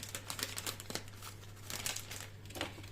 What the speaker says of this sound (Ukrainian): Ну, тепер я беру такі пакетики.